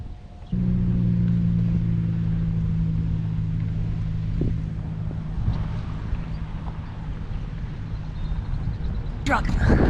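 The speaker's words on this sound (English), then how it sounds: "Here goes the truck." A truck drives past a golf course, its low engine drone steady and moderately close for several seconds before fading into wind, with a sharp click at the end.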